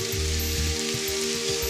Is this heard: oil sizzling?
yes